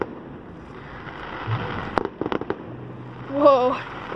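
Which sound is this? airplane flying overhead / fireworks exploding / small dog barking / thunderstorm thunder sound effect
fireworks exploding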